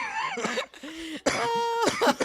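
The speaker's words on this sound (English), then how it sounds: "you got turtle coughing again" A person coughs in several harsh, throaty bursts, close and loud, with short gaps between them and a rasping, throat-clearing quality.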